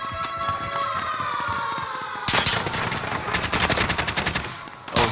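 Gunfire from a MAC-10 submachine gun in the Warzone video game comes in rapid automatic bursts and repeated volleys, loud and close, with a brief pause before a final burst.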